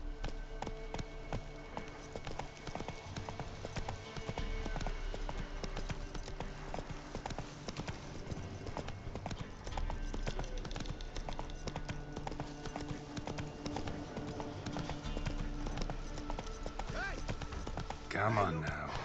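Hooves of Roach, Geralt's horse in the fantasy game The Witcher 3: Wild Hunt, clip-clop steadily at a walking pace, under a continuous musical and ambient game soundtrack, with a voice talking now and then.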